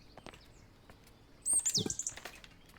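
Finches chirp at a bird feeder in the video game Botany Manor: a brief burst of high, quick tweets and twitters, close and clear, after a quiet stretch with faint scattered taps.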